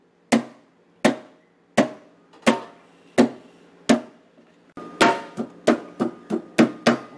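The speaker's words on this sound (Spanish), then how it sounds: "Ya hemos terminado de golpear por toda la pota que tenemos acá." Giant squid meat is pounded to tenderize it, with sharp, loud thwacks that come first at a slow, even pace and then in a quicker run of strikes, each ringing briefly.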